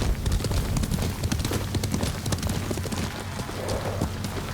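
A horse gallops in Ghost of Tsushima with dense, rapid hoofbeats that keep a steady driving rhythm and stay loud and close throughout, carried over a rumbling low background.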